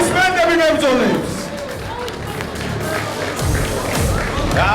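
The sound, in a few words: applause for the fighters after a bout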